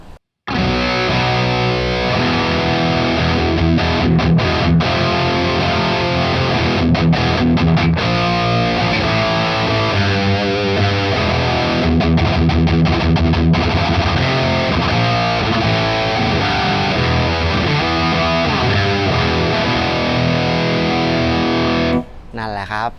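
Heavily distorted electric guitar through a HeadRush Prime multi-effects GTR 6505 Fat Drive preset plays continuously for over twenty seconds, thick and saturated, with chugging chords and sustained notes, then cuts off abruptly.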